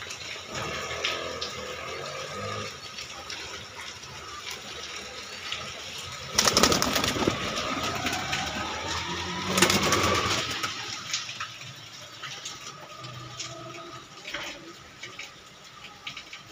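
Soft cooing of high-flying pigeons close by amid a general outdoor hum, with two louder bursts of rushing, splashing noise partway through.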